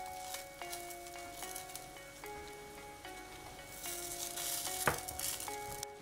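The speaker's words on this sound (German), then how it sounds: "Während mein Toast da jetzt auf der Plancha am Kochen ist" Toast slices browning in olive oil on a hot plancha give a steady, close sizzle and crackle throughout, with faint clinks of utensils and no talk.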